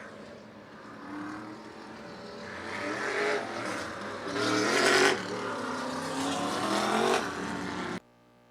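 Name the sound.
modified race cars rolling out on track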